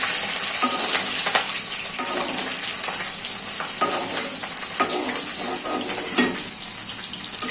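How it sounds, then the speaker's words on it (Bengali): Chopped onions added to oil with dried red chillies, frying in a pan: a loud, dense sizzle with frequent spatula scrapes and knocks against the pan, close up and continuous. "পেঁয়াজ কুচিগুলো একবার আমি লাল করবো না, একটু বাদামি বাদামি করে ভেজে নিব।"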